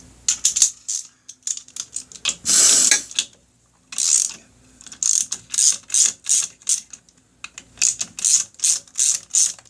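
A ratchet loosens the aluminum clutch cover bolts on a Honda Rebel in quick close bursts of sharp clicking. A longer grinding pull comes near the start, then repeated short ratcheting strokes follow with brief pauses between.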